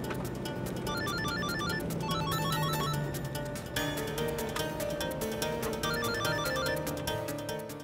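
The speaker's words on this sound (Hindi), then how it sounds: "मानसी का फोन" A mobile phone plays a melodic ringtone loud and close, repeating its electronic chime pattern steadily over a busy background.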